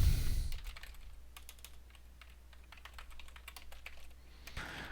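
Code typed on a computer keyboard, a quick run of close, light key clicks in irregular bursts with a brief louder rustle at the start and end, no voices.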